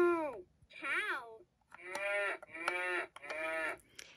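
A Fisher-Price Laugh and Learn children's toy plays a recorded cow moo, a string of loud, drawn-out electronic lowing calls in quick succession, close and clear with no talking over them.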